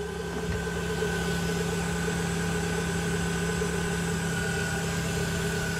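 Toyota 1UZ-FE VVTi V8 swapped into a Mitsubishi Delica L400 4x4 van, idling steadily with a smooth, even hum and constant low drone, close by with no talking.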